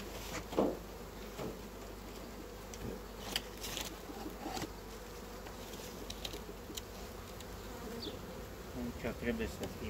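Honeybees drone steadily around an open hive during colony work, a dense continuous buzz with individual bees passing close by, plus occasional handling clatter, and no talk.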